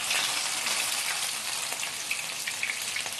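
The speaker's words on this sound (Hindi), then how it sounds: "आइए इस कबाब को भी इसमें डाल देते हैं" Peshawari chapli kabab fries in a pan with a steady, close, hissing sizzle and small pops throughout, with no one talking.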